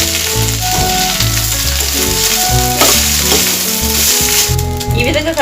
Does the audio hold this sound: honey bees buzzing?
no